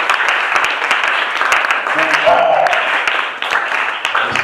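Church congregation clapping steadily throughout a local worship service, a dense continuous wash of hand claps with voices and singing mixed in.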